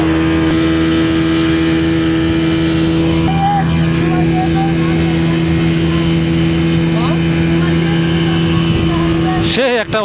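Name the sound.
speedboat ride at sea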